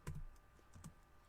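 Computer keyboard keys tapped in a short burst of a few quick, close clicks while typing a command in a terminal, fairly quiet and with no voices.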